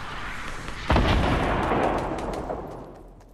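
A rocket launcher explosion in Fortnite lands as one heavy, sudden boom about a second in, then rolls off into a long decaying rumble and debris crackle.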